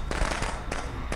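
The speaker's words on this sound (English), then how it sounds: "Slightly ill-placed fireworks." Fireworks going off in the Friday the 13th video game, a quick cluster of several sharp crackling bursts in about a second, close and fairly loud.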